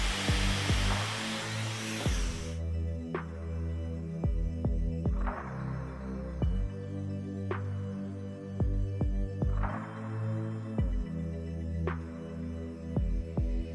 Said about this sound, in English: with my blow dryer, I'm just gonna blow dry it until it's nice